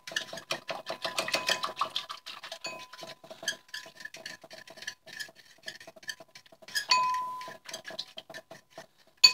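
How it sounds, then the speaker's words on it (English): A spoon taps and scrapes in quick rhythmic clinks while stirring apricot chicken sauce in a bowl, a light close-up patter with brief pauses. "I'm just going to give that a stir so it's not too lumpy"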